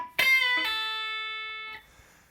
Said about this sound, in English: I want to talk about the chicken picking sound that I'm going to make.